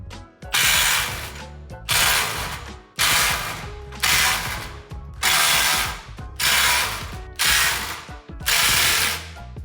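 A Milwaukee M18 Fuel 2953 impact driver hammers bolts loose in eight short, loud bursts of rapid rattling impacts, each separated by a brief pause, close up with no talk.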